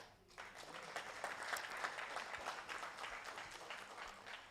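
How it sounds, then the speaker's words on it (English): A conference audience claps for a speaker at an afternoon session, a dense steady wash of many hands that holds moderately loud throughout. "you still want to give the man a better hand clap"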